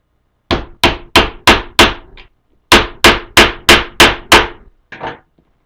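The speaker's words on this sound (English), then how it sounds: "I'll tilt it back at an angle and then just nail it in there" Nails are hammered in at an angle with a steel hammer: two close, loud bursts of sharp ringing blows, about five then six strikes in steady rhythm, with a brief pause between them and a couple of lighter taps at the end.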